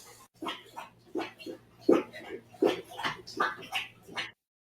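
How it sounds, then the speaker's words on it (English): Dogs yip and whimper close by in a home setting, a string of short sharp barks and whines spaced across a few seconds, then sudden quiet. "Here come the dogs."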